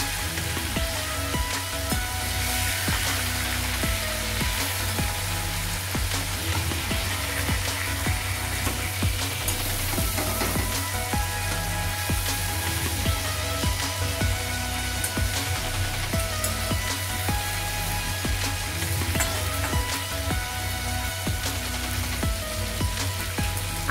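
Boal fish fry in a pan, giving a dense, steady crackle and spatter that runs close and unbroken throughout, like light rain, with no voices over it.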